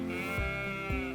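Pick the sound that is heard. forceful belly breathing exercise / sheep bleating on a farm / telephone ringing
sheep bleating on a farm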